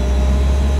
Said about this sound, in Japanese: この2000回転の音、